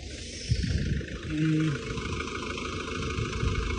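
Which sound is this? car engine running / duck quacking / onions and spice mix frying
car engine running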